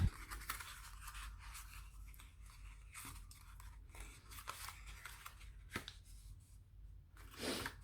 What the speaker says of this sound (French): Donc là, je viens couper le surplus de ficelle.